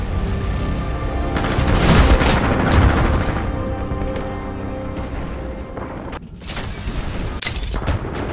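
A Titan crashes down from the sky in Titanfall 2, a loud sustained roar and rumble of impact and debris lasting several seconds, with a second burst of crashing near the end.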